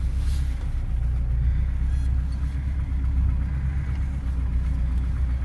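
A car engine drives off-road at the opening of the season, a steady low rumble heard from inside or near the vehicle, moderately loud, with no talk.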